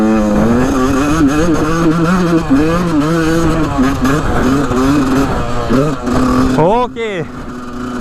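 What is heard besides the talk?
motorcycle engine riding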